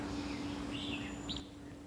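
Birds in a side garden in Chiang Mai, Thailand, give a couple of brief, faint chirps and sweeping calls over steady low background noise.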